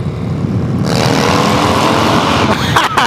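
A Yamaha R1 motorcycle engine revs up hard and loud, climbing into a sustained roar at close range before cutting back in short bursts.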